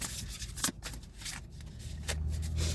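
Rapid riffling bursts of tarot cards being shuffled, close by and moderately loud, repeating in short flurries with a low hum underneath.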